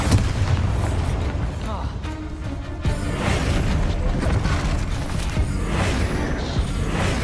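Bombarda blasting spells in Hogwarts Legacy set off repeated deep booms and rumbling bursts, loud and close, layered with game effects while a voice talks intermittently over them.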